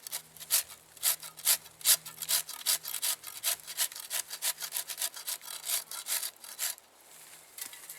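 A hand saw cuts through the wooden corner of a trail camera box mounted on a tree, giving a quick series of rasping back-and-forth strokes, close and fairly quiet, with no talk.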